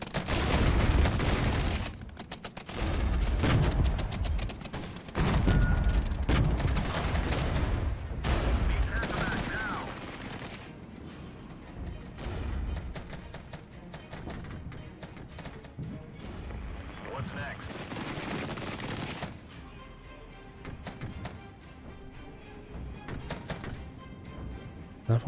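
Battlefield gunfire from units shooting in the Regiments video game: repeated fusillades and bursts of rifle and machine-gun fire with heavy booms, loud at first and then thinning to scattered, more distant shots.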